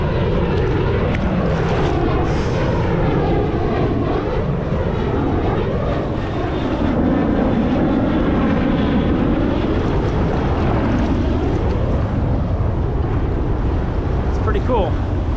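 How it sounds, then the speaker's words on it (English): Several aircraft engines drone in a steady loud roar as planes take off from a ship, recorded from a small inflatable boat at sea with wind and waves in the background. "Look at all these planes lifting off."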